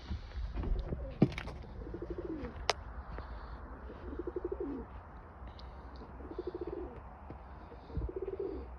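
Pigeons in a coop coo in soft, repeated rolling phrases, several calls spaced a couple of seconds apart, with a few faint clicks and rustles nearby.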